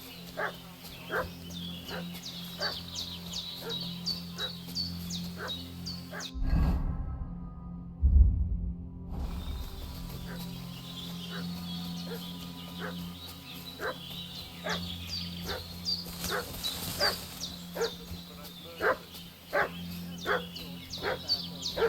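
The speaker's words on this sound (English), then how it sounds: "What's that dog making such a fuss about?" A dog in the video game Kingdom Come: Deliverance II barks in steady, repeated yaps from a short distance, making a fuss while ambient rumble and a brief thud interrupt partway through.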